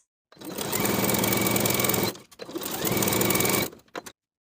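A sewing machine stitches a linen seam in two steady bursts, a rapid, even mechanical whir with a brief pause between stitching runs, close and loud.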